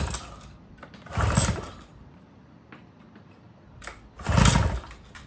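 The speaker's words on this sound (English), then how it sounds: "we're gonna try to fire it up" A 1960s outboard boat motor being cranked with the choke on, two separate loud pull-start bursts with quieter mechanical rattling between them and no sustained running.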